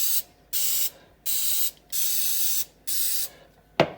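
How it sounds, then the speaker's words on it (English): Coconut oil cooking spray hisses from a can in four bursts of about half a second each, close and loud, separated by short quiet gaps, then a brief clack. "Now I'm just going to take some of this coconut oil spray."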